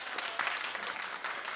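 A daytime talk show studio audience claps in response to the host, a brief burst of moderately loud applause at middle distance.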